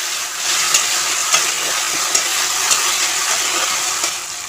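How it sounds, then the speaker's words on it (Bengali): Ground ginger, garlic and onion paste fries in hot oil with a loud, steady close sizzle and hiss, a few soft stirring taps punctuating it, no voices. "আদা রসুন পেঁয়াজটাকে যে আমি একসাথে বেটে রেখেছিলাম এটা আমি তেলের মধ্যে দিয়ে দেব"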